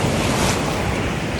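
Ocean surf breaks near a beach in a loud, continuous wash of churning water mixed with gusty wind noise on the microphone, close and enveloping with no voices.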